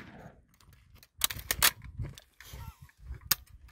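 Sharp gunshot reports from a bolt-action gun firing outdoors, several loud cracks in close succession with mechanical clicks between them, near and prominent, with no talk.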